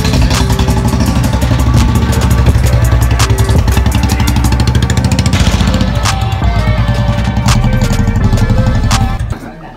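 A 2018 Bullet motorcycle, started without its keys, runs close up with a loud, thumping single-cylinder idle that pulses steadily before stopping abruptly.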